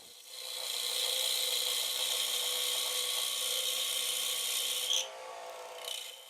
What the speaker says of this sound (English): Using just the left edge of the Easy Rougher, we'll start shaping our tenon.